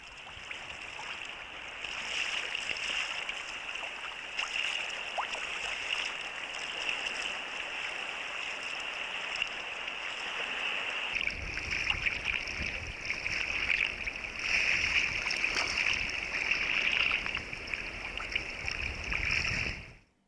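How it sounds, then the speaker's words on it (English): A sea kayak glides along the shore of Hunter Island, with steady soft water wash and lapping against the hull, a rougher splashing rush building in the second half, no talk. "We paddled south along the shores of Hunter Island down towards Cave Bay"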